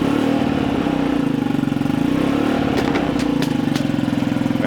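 Honda Zoomer scooter engine running steadily close by with a rhythmic idle pulse, followed by a few sharp revs near the end.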